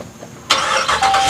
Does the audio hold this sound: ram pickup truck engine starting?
yes